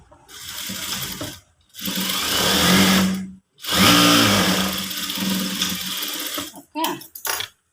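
A domestic sewing machine stitches a garment sleeve in loud, close, sustained whirring runs, stopping briefly between bursts, followed by a few short stitch bursts at the end.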